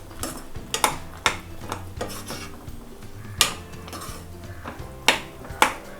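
Lotus seeds (makhana) being stirred into masala in a pan for a curry, with a spoon scraping and clinking against the metal in irregular strokes and sharp knocks, close and fairly loud, no voices.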